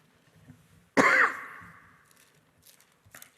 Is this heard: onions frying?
no